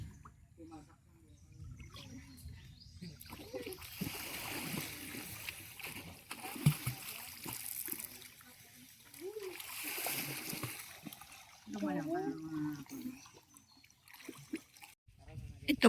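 Running water at a village spring used for fetching, washing and bathing splashes and flows nearby under intermittent talk.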